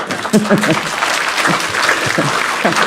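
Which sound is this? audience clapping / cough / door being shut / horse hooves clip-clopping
audience clapping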